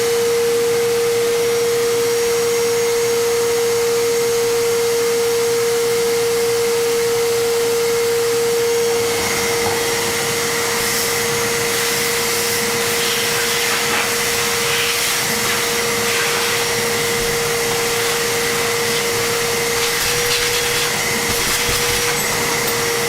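A shop vacuum cleans spilled macaroni off a CNC machine. It runs as a loud, steady whine with a sharp constant tone, and rattling debris bursts come through as it sucks up the pieces. No one talks.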